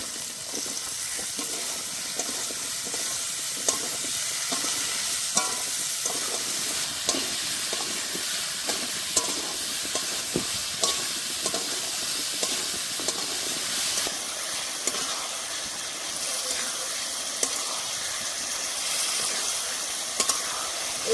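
Chunks of bottle gourd stir-fried with prawns in a pan, a steady sizzle and hiss broken by regular scraping strokes of a spatula every second or so, close and fairly loud with no talk.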